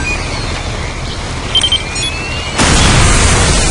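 A bomb goes off in the video game Counter-Strike: Condition Zero. A quiet stretch of game ambience gives way to a sudden, loud, broadband blast that roars on to the end.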